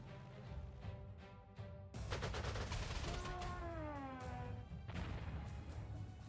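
Fighter plane strafing fire in the strategy game Panzer Corps 2, a dense burst of crackling shots and impacts that jumps in loud after a quieter opening, with a rising engine-like whine running through the middle.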